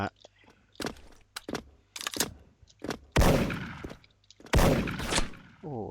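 A gold PSG-1 sniper rifle fires in the online shooter Special Force, with two loud, close booming shots a second or so apart among lighter clicks and clacks, while someone talks.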